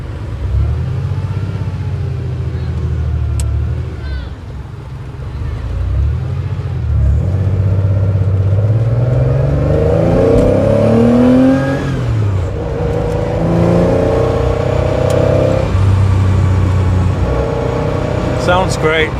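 Classic Porsche 911 SC engine drones and rises through the revs while cruising at night, heard from inside the car as a steady rumble with climbing and falling pitch as gears change, with a person talking over it.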